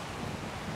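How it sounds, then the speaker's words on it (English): Strong wind buffets the microphone at a refugee camp, a dense, continuous roaring rush with no voices in the brief span. "You can feel and hear how windy this is."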